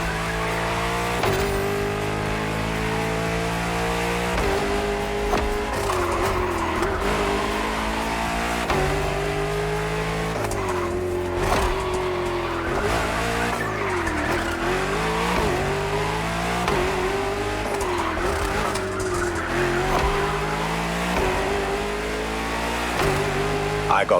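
A luxury hypercar from a new French maker in The Crew Motorfest, its engine loud and continuous while revving and shifting through gears, with tire squeal and skidding.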